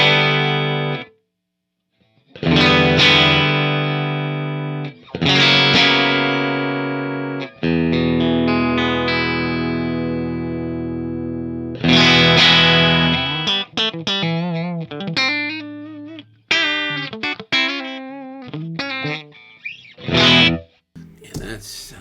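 Telecaster electric guitar through a Suhr PT100 amp set at the edge of breakup, loud sustained chords with a gritty, slightly overdriven tone, then quicker choppy phrases and single notes toward the end.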